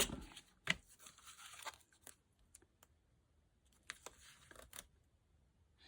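Adhesive tape torn by hand while a birthday card is assembled, a few short dry rips and crinkles close by and fairly quiet, with gaps of near silence between them.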